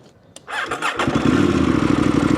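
A KTM motorcycle engine cranks and catches on an off-road ride in Germany's Eifel region, settling into a loud, steady, close idle with a rapid throbbing pulse.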